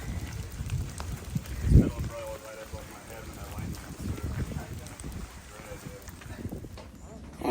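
Rain falls steadily at a trail shelter on the Appalachian Trail, a broadband patter on the roof and surroundings with occasional louder drops, while a person talks now and then over it.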